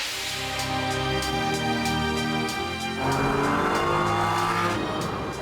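A Ferrari drives along at speed with a steady, loud engine drone that rises through the gears. Tire noise runs beneath it, and there is no talk.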